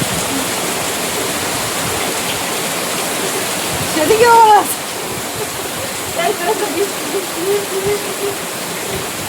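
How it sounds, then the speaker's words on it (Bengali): Steady heavy rain pours outside a home in the Sundarbans during the monsoon, a dense continuous hiss with a person speaking briefly over it. "বৃষ্টি ধরে হাত বাড়াও"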